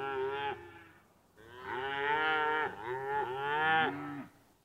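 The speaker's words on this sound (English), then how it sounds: "Did you say there are cows on the farm?" Cows mooing on a farm: several long, loud lowing calls, one short moo followed by a pause and then a sustained, wavering series of moos, with no talk.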